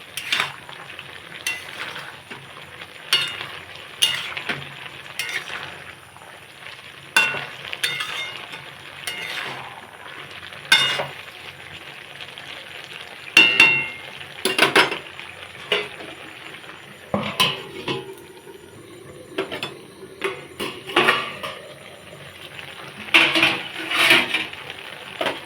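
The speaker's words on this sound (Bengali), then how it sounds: "এখন আস্তে করে একটু নেড়ে দেবো।" A spatula scrapes and clinks in a pan of puti fish and ivy gourd curry, with irregular stirring strokes and metallic taps over a soft sizzle, close and without talk.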